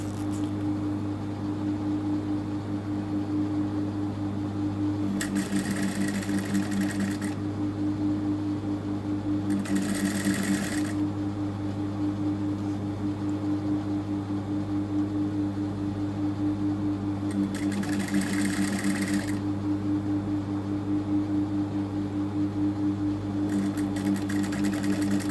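A sewing machine stitches a zipper onto clothing beside the piping, a steady close mechanical hum with rapid needle clatter throughout, punctuated by several brief louder whirring bursts.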